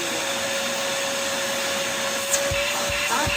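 Vacmaster household wet/dry vac running steadily, a loud, even motor whine with broadband airflow rush and a few low thumps near the end.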